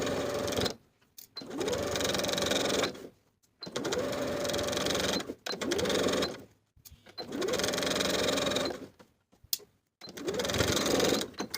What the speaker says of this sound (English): Then we'll edge stitch along the bias tape once again, this time from the top raw edge to the bottom of the inset